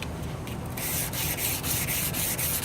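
Hand sanding a steel chef knife blade to remove grind lines: rapid, rhythmic scratchy rubbing strokes, close and loud, continuing steadily with no speech.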